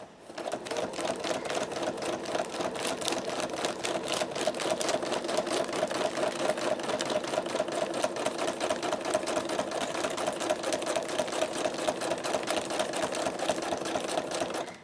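A quilting sewing machine stitches fabric held taut in a quilting frame, running a fast, steady mechanical rattle of needle strokes that stays loud and even throughout, with no talking.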